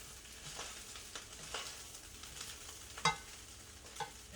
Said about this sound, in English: Okay, stir the rice.